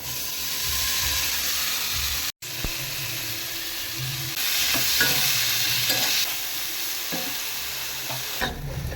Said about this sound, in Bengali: এবার আমি আলু বেগুন পেঁয়াজটা এর মধ্যে দিয়ে দেবো